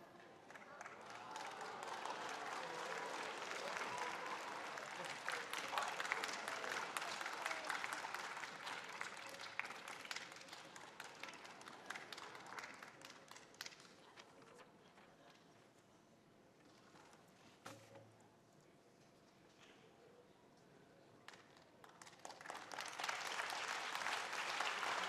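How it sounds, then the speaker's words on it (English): An audience at an awards ceremony claps for the awardees, dense sustained applause that thins to scattered claps before swelling again, with a voice speaking over it. "give them another round of applause"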